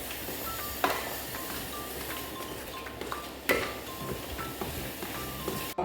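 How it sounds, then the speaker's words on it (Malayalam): Semolina (rava) stirred in a pan over a low flame while making Kerala-style jackfruit rava balls, with soft scraping, light sizzle and occasional clinks of a utensil against the pan. "ലോ ഫ്ലെയിം में डाल के अच्छे से मिक्स कर दीजिएगा"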